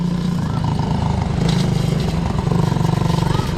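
An off-road quad bike engine drones loudly and steadily close by, a throbbing motor note with slight surges as the rider moves along a rough track.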